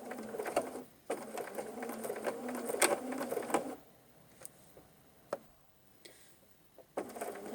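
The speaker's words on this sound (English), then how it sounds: "I'm going to stitch that piece again from the straight edge" A sewing machine stitches patchwork fabric in a steady, fairly loud run for almost four seconds, then stops, leaving quiet handling clicks and a few brief bursts of stitching near the end.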